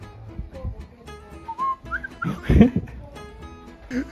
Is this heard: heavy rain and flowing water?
no